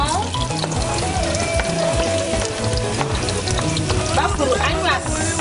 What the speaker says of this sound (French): l'huile elle est chaude, on met les oignons